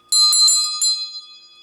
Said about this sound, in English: I got to ring the bell too